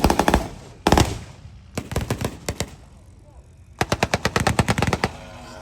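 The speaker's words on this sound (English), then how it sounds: "Stryker is just spiraling the rockets at the T-54 to take the tank." A battle reenactment at the Canadian Tank Museum in Oshawa, with a Stryker firing rockets at a T-54 tank: loud, rapid bursts of repeated firing, near and sharp, come in several volleys separated by short pauses.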